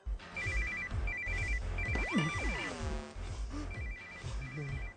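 A phone ringtone chirps in repeated short bursts, with a sweeping musical tone and a steady background rumble underneath.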